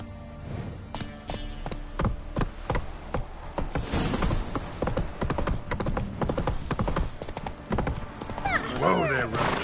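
In The Witcher III, Geralt's horse Roach walks with steady, crisp clip-clopping hooves, close and prominent, over a quiet ambient game soundscape that ends with a short whinny.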